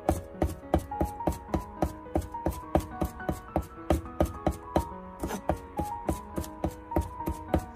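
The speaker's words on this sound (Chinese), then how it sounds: "最后再把它切成蒜末" A knife chops garlic into fine mince on a cutting board, a steady run of close, crisp, evenly spaced blade strikes with no voices.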